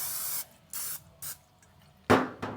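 Short bursts of spray from a bottle coat chicken wings ahead of lemon pepper seasoning for a pellet smoker, three hissy puffs followed by two louder, closer sprays, with no talking.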